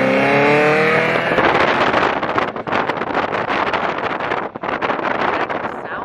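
Engine of a restored bare-shell 21-window VW bus on the move, a steady loud drone with rising revs early on, mixed with heavy wind noise through an open window.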